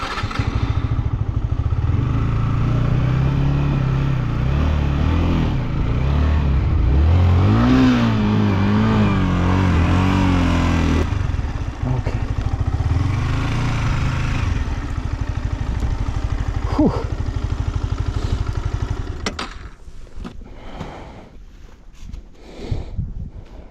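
A motorcycle engine roars loudly and continuously near a lake as the throttle is opened, with rising and falling revs and wind buffeting. Near the end it drops to a rougher, quieter clatter.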